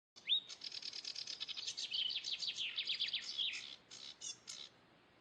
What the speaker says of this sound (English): Arctic warbler.